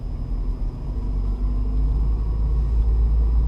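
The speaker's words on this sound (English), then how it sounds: "Clutch in, coast. Little bit of gas, clutch up." Manual-transmission car engine in a parking lot, clutch in and coasting with a light touch of gas, giving a steady, close low rumble that swells slightly and holds, with no talk over it.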